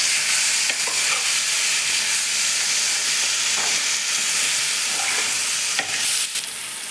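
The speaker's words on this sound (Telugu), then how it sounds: "మీడియం ఫ్లేమ్లో చికెన్ పీసులు గట్టిపడే వరకు వేయించుకోవాలి" Marinated chicken pieces fry over a medium flame for a spicy chicken roast, a loud continuous sizzle broken by repeated scraping clicks of stirring in the pan, with no talking.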